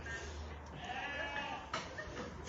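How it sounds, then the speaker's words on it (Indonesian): Sheep bleat on a farm housing hundreds of sheep, faint under a steady broadband background with continuous low rumble. "Di sini domba-dombanya ada sekitar ratusan yang diternak"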